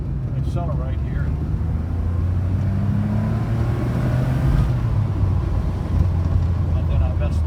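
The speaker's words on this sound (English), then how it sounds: "I want to accelerate here." A 1980 Porsche 911SC Weissach coupe pulls forward under throttle, its engine droning and rising in pitch steadily from inside the cabin, loud and continuous, with a voice speaking over it at times.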